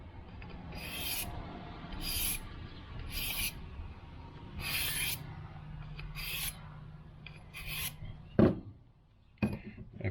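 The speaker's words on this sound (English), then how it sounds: "Maybe we'll touch it up with the diamond steel a bit." A pruning knife blade is drawn across a diamond sharpening steel in a series of short, evenly spaced raspy strokes, close and fairly quiet, with a couple of sharper knocks near the end.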